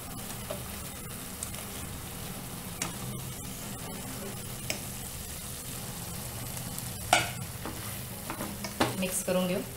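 Veg Manchurian balls are stirred into sauce in a pan, giving a constant close sizzle under repeated scraping and clicking of a spoon that grows busier toward the end.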